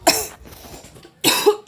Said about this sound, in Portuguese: Ignore minha tosse, gente.